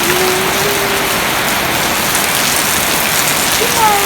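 Heavy rain pounds a house in a constant, loud, even patter on a surface, a close, unbroken wash of sound with a faint tonal whine drifting underneath.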